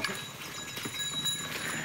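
Cattle walk as they are let loose, their hooves thudding and clopping softly in an irregular rhythm under a steady outdoor hiss.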